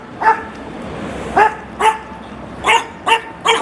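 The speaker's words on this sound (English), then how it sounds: "I'm getting barked at from everywhere" A dog barks loudly and repeatedly, six or so sharp barks at uneven intervals, close by over faint background noise.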